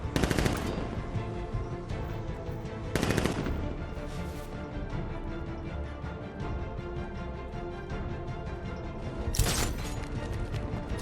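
Sustained automatic gunfire in a Batman Arkham Knight fight, loud and continuous, with a few heavier bursts standing out above the steady chatter of shots.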